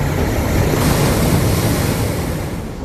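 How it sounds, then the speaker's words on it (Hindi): Cyclone Yaas storm winds lash the coast with a loud, continuous roar of wind and crashing surf, steady throughout with a slight easing at the end. "सब कुछ उड़ाने पर आमादा तूफानी हवाएं।"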